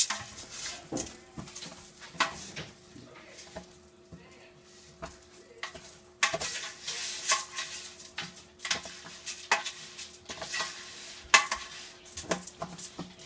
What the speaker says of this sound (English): Got some butter melting and rice just starting to brown up.